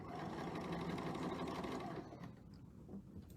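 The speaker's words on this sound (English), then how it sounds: "when I sew it on, I sew it just one thread over." A sewing machine runs a seam at a steady fast whirring clip for about two seconds, then stops, leaving a quieter, faint rattle.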